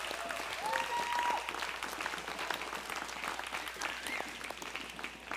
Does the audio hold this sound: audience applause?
yes